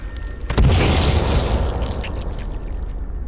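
A time bomb explodes in the survival game Sons of the Forest with a sudden loud boom that rolls into a long rumbling, debris-filled tail fading over a few seconds.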